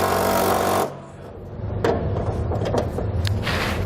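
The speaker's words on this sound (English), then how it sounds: "We're going to take a 3/4 inch socket, and what we want to do is we only want to tighten the nut" A 3/4 inch socket tightens a nut on a Curt Double Lock flip-and-store underbed gooseneck hitch, loud close ratcheting and metallic clatter after a brief steady mechanical burst.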